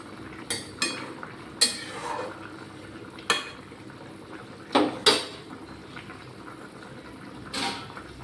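Fish, eggplant and potato lifted out of a cooking pot with a utensil: several sharp metallic clinks and scrapes spaced irregularly, close and moderately loud, with no talk over them.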